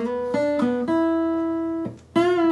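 Clean electric guitar playing a short blues lick from a song's opening riff, a few plucked notes with one long sustained note and a bend, close and alone.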